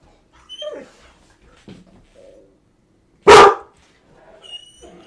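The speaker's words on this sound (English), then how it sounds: "the dog soundtrack going at the same time" A dog gives a few short yips and whimpers, then a single loud sharp bark, with scattered softer whines around it in an otherwise quiet room.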